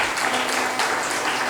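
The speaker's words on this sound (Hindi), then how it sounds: "ताली बजाकर अभिनंदन करो" An audience at an online satsang at Kabir Dham applauds to welcome a donor, with dense, continuous clapping from many hands, loud and sustained throughout.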